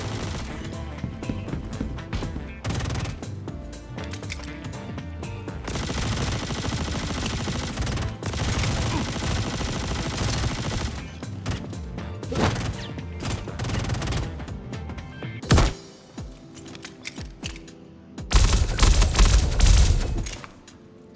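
Burst fire from an Arclight pistol in the Star Citizen video game, with dense repeated gunshots and loud impacts through much of the clip, pausing briefly before a final loud burst near the end.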